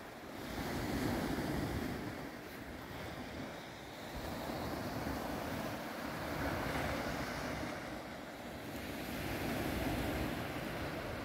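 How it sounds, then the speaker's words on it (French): Surf washing steadily onto a beach in Corsica, near a lagoon, with broad rushing swells rising and falling every few seconds under a layer of wind noise; no one speaks. "Juste le bruit des vagues."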